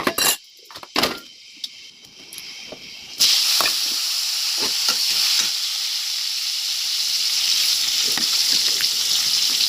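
Soybean chunks fry in a pan with a steady, loud sizzle and hiss, broken by scraping stirs. The first few seconds are quieter and patchy before the frying settles into a continuous roar.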